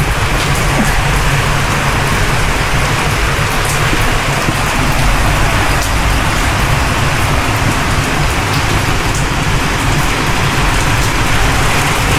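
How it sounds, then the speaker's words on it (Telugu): Heavy rain pours down outside, a dense, constant hiss and patter that stays loud and unbroken throughout, with no voices. "వర్షం పడుతుంది బయట బాగా."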